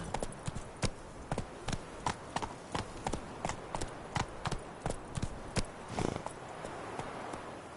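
Geralt's horse Roach walks in the Witcher 3 video game, a steady clip-clop of hooves with evenly spaced, close, crisp beats throughout.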